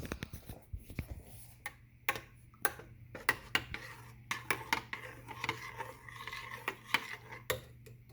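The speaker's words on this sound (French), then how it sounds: "Maintenant, je vais brasser un peu la sauce." Sauce being stirred in a pan with a fork, producing quiet irregular metallic clinks and scrapes against the pan with a faint low hum beneath.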